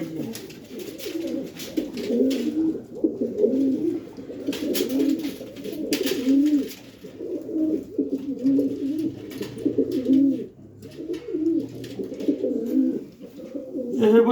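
Pigeons coo in repeated, soft, rolling phrases that continue steadily and close by, with a few other faint sounds in the background.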